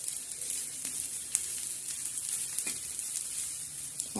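Black masala of coconut, garlic and ginger dry-roasting in a pan, giving a steady close hiss and crackle with a few faint scrapes of stirring, no voices.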